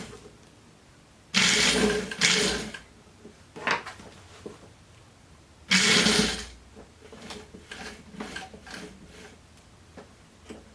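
A sewing machine stitches along a seam of a jumpsuit in two short, loud bursts, followed by lighter mechanical ticks and clicks as the fabric is repositioned.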